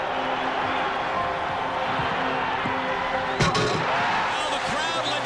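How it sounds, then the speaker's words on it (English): Basketball arena crowd noise from an NBA game, a steady loud roar with a sharper burst of reaction partway through and a few faint thuds underneath. "Now the crowd lets you know what they think of it."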